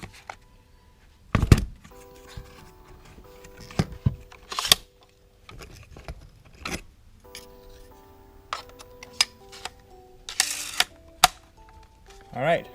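Dewalt 20V 18-gauge cordless nailer being loaded with 2-inch nails: scattered mechanical clicks, clacks and a few sharp snaps of the magazine, close and moderately loud, spread irregularly with quiet gaps between.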